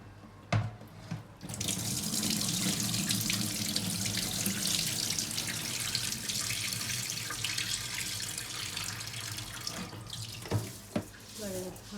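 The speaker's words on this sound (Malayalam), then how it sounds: "വെള്ളം ഊറ്റുന്നു." Water runs steadily into a sink for several seconds, a continuous splashing rush that tapers off into a few drips and clinks near the end.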